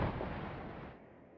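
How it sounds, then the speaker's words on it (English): Snow that has piled up on a roof slides off and lands on the ground with a loud, heavy thud in the Remember11 video game. The deep impact is loudest at the start and then rumbles away over about a second. "The snow that had piled up on the roof fell to the ground with a loud thud."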